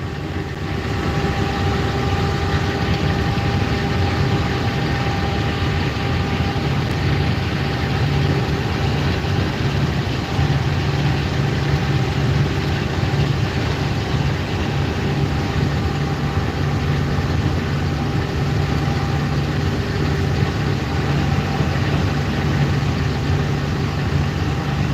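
A 36-foot swather runs steadily while swathing oats, a constant droning engine hum with a low rumble and mid-range whine that holds unchanged for about twenty-five seconds, with no voices.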